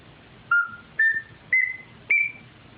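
A Flashback custom duck call whistle blown in four short, clear notes, each slightly higher than the one before, rising from low to high with brief pauses between, loud and close.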